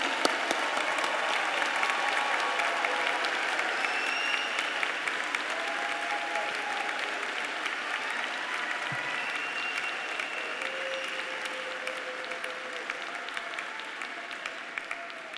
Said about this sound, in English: they really merit your applause